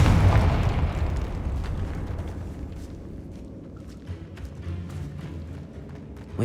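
A Confringo spell explosion in Hogwarts Legacy erupts with a loud booming blast, then trails off into a long rumbling decay with faint crackling debris.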